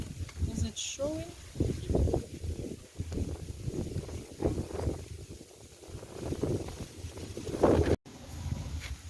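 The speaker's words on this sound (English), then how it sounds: "The wind is really strong, trust me." Strong wind blows outdoors under a mango tree, rumbling and buffeting the microphone in gusts while a person talks over it.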